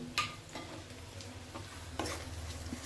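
Ginger and garlic paste frying with onion for egg fried rice: a quiet, steady sizzle broken by a few spatula knocks and scrapes against the pan, close by and with no talking.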